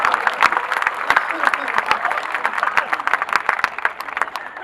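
A crowd applauds with dense, steady clapping throughout, loud and sustained, with some voices mixed in.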